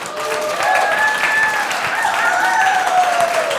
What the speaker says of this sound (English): please, with your round of applause